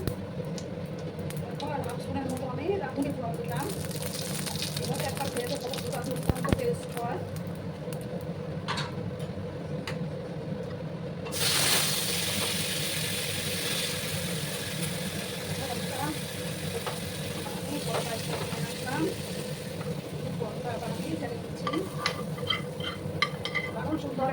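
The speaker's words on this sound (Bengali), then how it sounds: "এটাকে একটু আমি ভেজে দিচ্ছি বন্ধুরা।" Masoor dal with salt fries in a pan, a soft scraping stir that grows into a brighter, steady sizzle partway through, with a voice talking over it.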